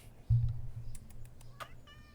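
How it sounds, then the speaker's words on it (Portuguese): A large cat gives a single short meow, moderately loud at first, followed by faint, scattered background noise. "Ai, que gato grande."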